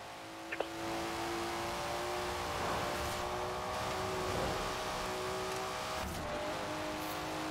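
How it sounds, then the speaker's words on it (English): An upgraded Datsun's engine in the racing game Forza Horizon 4 holds a steady, loud, buzzing drone at high revs, with a brief tire squeal near the start and no talking. "Listen to that. Never heard the Datsun sound like that"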